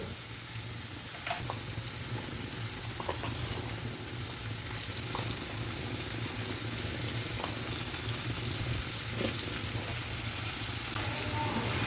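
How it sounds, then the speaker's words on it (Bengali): Bombay duck (lote) fish frying in spiced oil that has begun to separate from the masala, a quiet continuous sizzle with faint occasional clicks of stirring, no voices. "মশলার থেকে তেল ছাড়তে শুরু করেছে এখন আমি লোটে মাছগুলো দিয়ে দেব"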